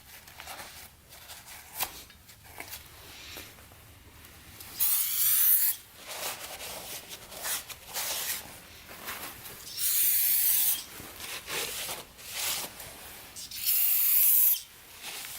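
Brake cleaner hisses from an aerosol can in three loud bursts of roughly a second each, sprayed while cleaning parts on a Honda ATV, with softer rustling and handling noise in between.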